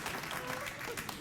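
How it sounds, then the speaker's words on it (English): Taped studio-audience applause on a late-night TV talk show, a brief dense wash of clapping with crowd noise and some voices mixed in. "How coincidental that an applause should be in the tape of the audience just at that time."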